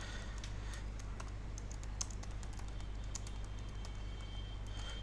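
Typing on a computer keyboard while entering a university name in an online application form, a quiet, continuous patter of key clicks over a low steady hum.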